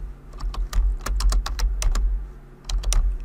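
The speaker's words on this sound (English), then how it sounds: "So we're going to type the field width" Fingers type on a computer keyboard in quick, crisp clusters of keystrokes close up, pausing briefly before another short burst, with no talking.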